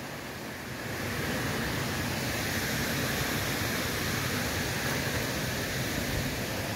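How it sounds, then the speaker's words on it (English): Roaring Brook Falls in Connecticut, a waterfall with a strong flume of water pouring over rock, heard as a steady, dense roar that swells up in the first second and then holds constant and loud. "quite a flume here, quite a bit of water coming over it"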